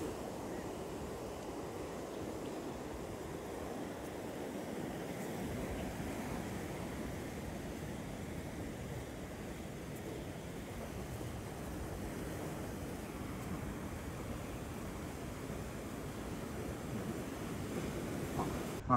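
Ocean waves wash onto Sunset Beach near Bolsa Chica while wind blows, a soft, continuous, fairly distant surf rush with no voices.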